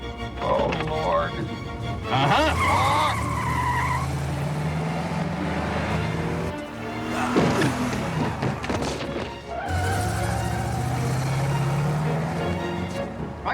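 A car driven wildly by an unpracticed driver, with engine notes revving and rising repeatedly, skidding tyres, and thumps, loud and near, while people talk over it.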